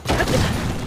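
A loud, heavy boom with a rumbling tail, a bomb going off close by in The Legend of Zelda: Tears of the Kingdom, lasting under a second.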